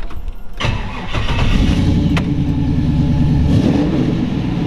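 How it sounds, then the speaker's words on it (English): A 1961 Chevy Corvette convertible with an LS2 V8 cranks briefly and fires, then settles into a steady, deep, loud idle close by. "We'll fire it up here so you kind of get a feel."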